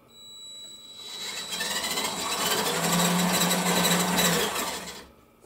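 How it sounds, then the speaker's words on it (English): Small Arduino-controlled RC robot motors whir up under joystick control, a steady electric drone that rises in pitch and level, holds for several seconds, then winds down and stops. "you have to go very gentle on the joystick to control the speed of the motors"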